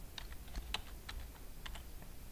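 A computer keyboard clicks under steady light typing as someone enters text for a PowerPoint slide, the keystrokes coming irregularly over a constant low background hiss.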